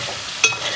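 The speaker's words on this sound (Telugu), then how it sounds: "మంచిగా ఫ్రై అవ్వాలి." Mutton sizzles in a pan on high heat after water is added, a close, steady hiss with one brief sharp scrape or clink partway through.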